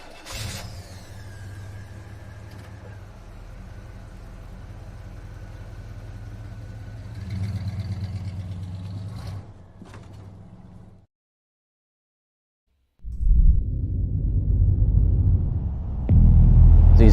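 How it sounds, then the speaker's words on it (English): Race cars with engines droning and rising in pitch under acceleration, followed by a short silence and then louder, closer revving that builds toward the end. "These cars are so violent."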